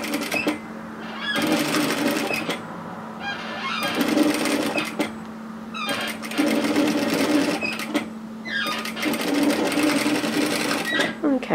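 A sewing machine stitches across gathered fabric on a flutter sleeve top, running in four steady bursts of several seconds each with short pauses between them, close and clear.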